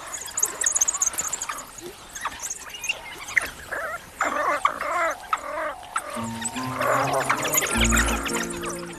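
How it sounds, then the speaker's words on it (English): Strange bubbling, twittering and squeaky calls from a group of African wild dogs, chattering irregularly up close, followed by a lower droning tone. "There are 18 types of calls, with rumbles, buzzes, and moans that are all unique to wild dogs."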